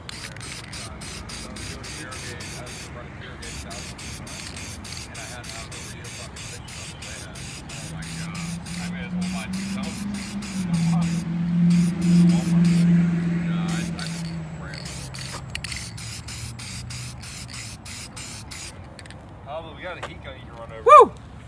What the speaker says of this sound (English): Spray paint job thing.